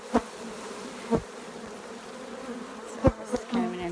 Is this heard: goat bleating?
no